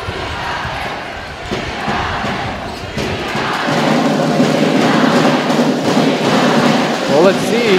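A crowd in a gymnasium at a professional basketball game roars continuously, loud and dense, swelling as a player incites the fans, with voices mixed into the din.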